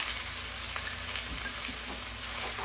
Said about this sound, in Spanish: Vamos a agregar la cebolla que tenemos finamente picada. y los dos dientitos de ajo